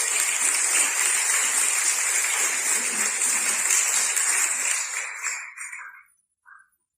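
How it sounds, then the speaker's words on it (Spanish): A church congregation applauds during a Spanish-language sermon, loud sustained clapping that holds steady, then thins out and stops, with a last brief patter of claps after a pause. "¿Cuántos le pueden dar un fuerte aplauso al Señor?"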